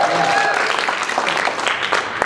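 Audience applause at a clean comedy show, dense and steady throughout, with a few voices cutting in briefly over the clapping.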